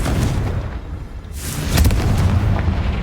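A Confringo fire spell bursts in the video game Hogwarts Legacy: a loud, booming explosion that rumbles heavily through the low end, followed by a second, brighter blast and a sustained roar.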